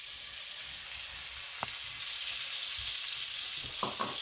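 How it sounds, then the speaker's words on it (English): A cup of rice fries in melted butter in a pan, giving a steady low sizzle throughout with a couple of faint clinks and scrapes. "And now I'm going to add in a cup of rice."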